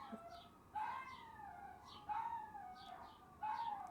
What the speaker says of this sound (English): They just randomly start howling. But those are my neighbor dogs.